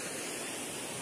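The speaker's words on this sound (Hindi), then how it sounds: "ये देख सकते हो आप लोग वाटरफॉल, जो ने की बहुत ऊपर से बह के आ रहा है नीचे" Steady broadband rush of a waterfall pouring from a great height at a scenic spot, continuous and fairly loud with no break over the brief moment.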